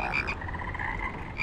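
Frogs croak in the Rain World video game, a steady run of throaty pulses that repeat close and fairly loud against a busy game backdrop.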